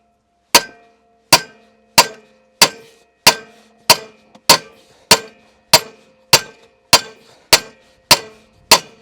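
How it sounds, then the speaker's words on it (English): Hard metallic hammer strikes on a metal puller during a snowmobile clutch rebuild, about a dozen evenly spaced blows ringing with a clanging tone, loud and close with no talking. "I'm gonna take a hammer and start beating on this,"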